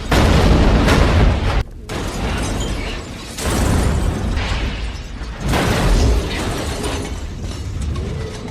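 Loud, roaring blasts of a car exploding in a movie, with heavy rumbling debris, a brief sudden cut of silence, then more booming bursts and crackling destruction.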